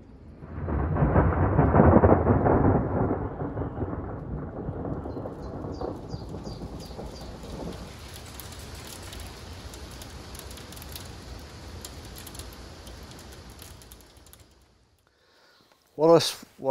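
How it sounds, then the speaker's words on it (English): A loud rumble of thunder rolls in over heavy hail pattering on surfaces in an outdoor bonsai garden, gradually easing into steady, softer rainfall before a brief loud burst at the end. "this hailstorm all of a sudden and thunder came in over"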